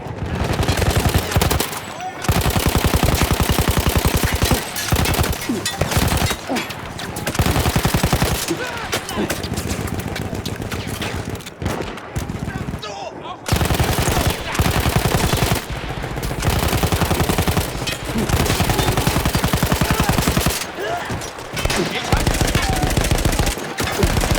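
Sustained machine gun fire in the Battlefield 1 video game, a mounted gun firing long, dense bursts with brief pauses, loud and close throughout the clip.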